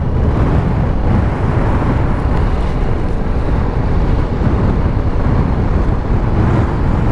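Heavy windstorm gusts buffet loudly against the microphone on a motorcycle ride along the Oman coast, a continuous low roar with rumbling from the moving vehicle.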